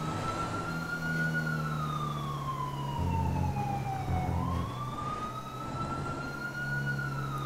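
A police car siren in GTA 5 wails steadily over a low engine rumble, its pitch sweeping down and back up across the whole stretch, loud and continuous with no talking.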